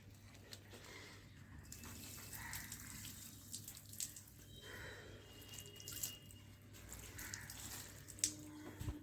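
Water trickles and drips while plants are watered on a balcony, faint splashing and dribbling sounds coming in soft irregular bursts over a low background hum.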